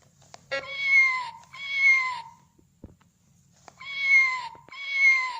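A cat meows four times, loud and close, in two pairs separated by a short pause with near silence between calls.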